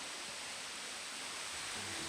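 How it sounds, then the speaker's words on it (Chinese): A waterfall beside a forest trail produces a steady, even broadband rush of falling water, continuous and moderately faint with no voices. "我们现在跟瀑布在旁边"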